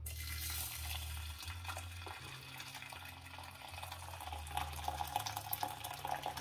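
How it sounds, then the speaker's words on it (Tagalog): Hot water pours from a kettle into a pot in a home kitchen while cooking, a steady close splashing fill over a low hum. "So, hot water na ilalagay natin."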